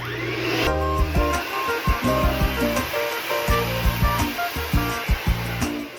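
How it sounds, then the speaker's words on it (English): A hair dryer blows with a loud, steady whoosh, and its pitch shifts in pulses as it is moved around. "The blow dryer is gonna be on top."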